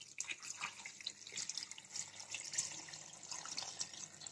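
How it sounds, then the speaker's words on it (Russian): Water is poured over peeled potatoes, a soft, steady splashing and trickling that rises and falls slightly, quiet and close, with no talking. "И все заливаем вот это водичкой."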